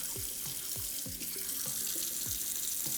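A makeup brush is rinsed under running water at a sink, giving a steady tap splash with repeated dripping plops and gurgles and no voices.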